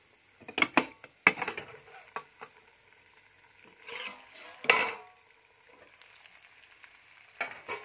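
Local Assamese chicken with potatoes is stirred in a cooking pot: intermittent metal-spoon scrapes, clinks and soft sizzling bursts in uneven clusters, with quiet pauses between them and no talk.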